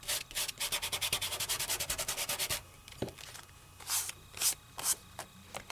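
A fingertip rubs silk glitter onto paper in a quick, regular series of close, dry, scratchy strokes, followed by a few slower, separate rubs.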